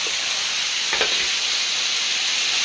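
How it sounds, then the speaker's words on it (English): Vegetables stir-fry in a hot pan for a Chinese pepper chicken dish, giving a continuous loud sizzle with a brief stirring scrape partway through. "The big thing when you're stir frying is to allow the heat to build up."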